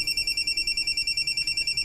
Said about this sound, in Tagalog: ang ako rong cellphone ang may bagting